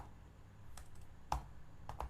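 Typing a username on a computer keyboard during software test-case writing: a few soft, sparse key clicks with brief pauses, faint against a quiet room hiss.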